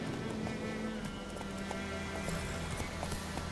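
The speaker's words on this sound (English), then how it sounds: "Lucky Hero always count on his horse Roach to help him in his travels. Have Roach come to you." Horse hooves clip-clop steadily in The Witcher 3 as the horse approaches, rhythmic and moderately quiet beneath a continuous game ambience.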